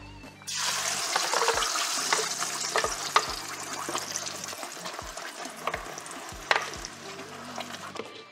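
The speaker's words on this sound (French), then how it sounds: "on va faire rissoler notre sauce pendant 10 minutes" Mole poblano sauce frying in fat in a pan, a loud continuous sizzle and spatter close up, broken by occasional stirring scrapes and clacks, with no talk.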